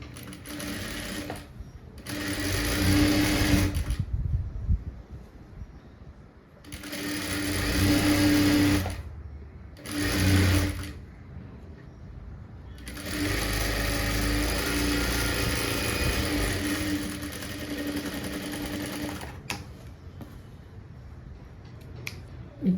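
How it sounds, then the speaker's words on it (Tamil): A sewing machine stitches along the sleeve edge of a blouse in several loud, steady runs, each a few seconds long, with short pauses between them and no talking. "இந்த ஓரத்தில் தையல் போட்டு எடுத்துக்கோங்க"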